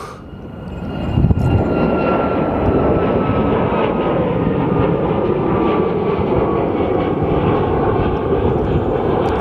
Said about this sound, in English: And this is our flight to Honolulu.